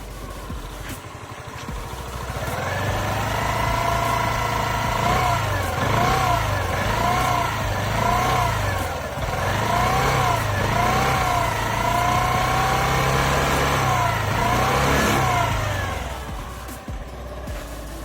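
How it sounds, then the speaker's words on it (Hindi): A Hero Xoom 110 scooter's exhaust idles steadily and revs up several times in rising and falling sweeps, loud and close, with no talk over it. "तो अब सुनते हैं हीरो ज़ूम का एग्जॉस्ट।"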